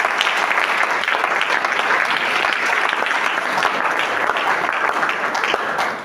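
A congregation applauds loudly and steadily, a dense wash of clapping that holds at full strength for several seconds with no voices standing out.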